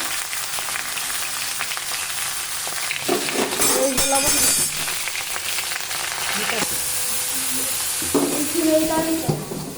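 A curry with potatoes fries in a pan after turmeric goes in, steady close sizzling broken by stirring scrapes and metallic clinks of a utensil against the pan, with brief voices underneath.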